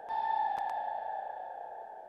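A pitched-down synthetic tone processed with Valhalla reverb and Valhalla delay plugins rings out as a sustained, spacey hum that slowly fades, with a couple of brief clicks near the start.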